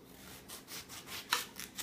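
A knife slicing through eggplant on a cutting board, soft rhythmic rasping strokes, about six cuts in under two seconds, faint and close.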